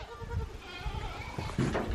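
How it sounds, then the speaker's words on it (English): Goats on a Jamaican countryside property bleat in several short, overlapping calls, growing nearer and louder toward the end amid rustling movement. "Look at the goats."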